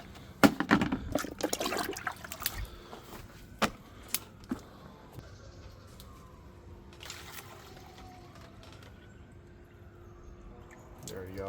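Water splashes and trickles outdoors as rabbits' water containers are refilled, with a burst of pouring near the start, scattered clanks and jangles, then a quieter faint trickle with a low hum in the background.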